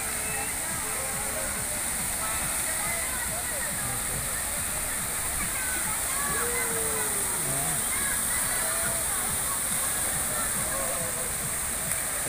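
Constant roar of rushing, splashing water at Splash Island water park in Biñan, Laguna, loud and unbroken like a waterfall, with faint voices buried in the wash.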